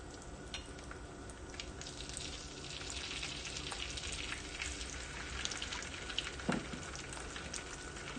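Birria tacos fry on a griddle with a soft, even sizzle and crackle like light rain, steady and moderately quiet throughout, with a brief sharper pop near the end.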